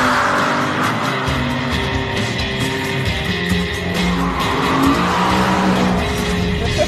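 A BMW M3 E92 engine revving hard under acceleration, a loud, continuous rising roar heard from close range with strong rumble and no pauses.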